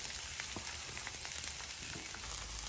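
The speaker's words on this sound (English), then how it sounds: "Got a little oil down. We're going to start our vegetables. Just onions only." Onions sizzling in oil on a Blackstone griddle, a steady close frying hiss with faint crackles throughout.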